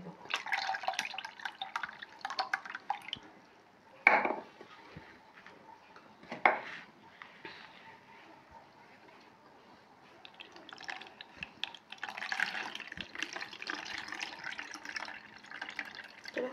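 Bael sherbet pours and strains through a cotton cloth in a kitchen, soft trickling and dripping in several bursts with a couple of sharp knocks of a vessel between quieter stretches.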